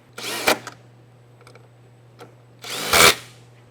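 Ratcheting wrench with a 15mm socket turning bolts during a Mustang GT supercharger install, giving two bursts of rapid clicking separated by a few faint isolated ticks.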